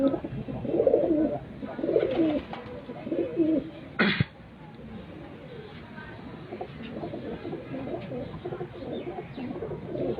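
Pigeons coo in low, soft murmurs on a rooftop, with a sharp click partway through and a quieter stretch of cooing afterward.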